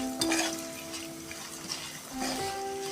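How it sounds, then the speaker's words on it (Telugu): Food frying in oil in a pan, a steady soft sizzle with a few brief stirring scrapes, fairly quiet and close, with faint tonal background hum and no talk. "ఆయిల్లో కొంచెం ఇది ఫ్రై కావాలా చూడండి"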